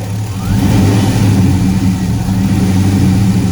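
A 1995 Chevrolet Caprice with a swapped 5.3 LS V8 and fresh headers runs close by. The loud engine drones steadily with a deep throb, and there is a slight rise in revs early on. A voice can be heard under the engine.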